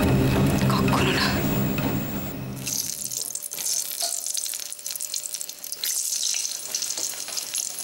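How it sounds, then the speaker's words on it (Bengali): Brinjal fries in a pan at a home kitchen stove, a dense, steady sizzle heard close up, with a voice talking over the start and a burst of running water or louder spitting oil mixed in. "ছোট বেগুনটা ভাজা হলে আলুগুলো ভেজে ফেলিস।"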